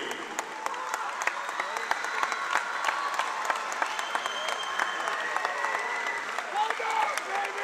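A crowd applauds a finalist team and its head coach at a trophy ceremony after a championship game, sustained clapping with scattered sharp claps and cheering voices throughout.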